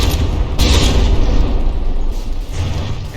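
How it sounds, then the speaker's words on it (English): Naval guns firing a barrage during a battleship battle in the video game From the Depths, loud overlapping booms and rumbling blasts that run continuously, with a few sharper bursts standing out. "Just that constant withering barrage from the Tillman."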